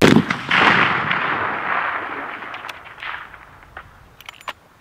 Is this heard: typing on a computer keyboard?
no